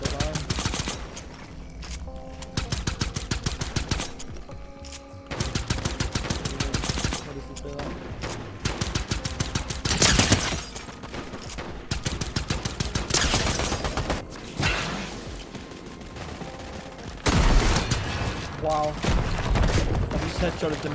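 Fortnite gunfire in quick automatic bursts and rapid single shots, loud and close, recurring throughout with short gaps between volleys, while a voice talks over the action.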